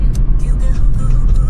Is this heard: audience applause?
no